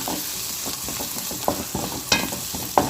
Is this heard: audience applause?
no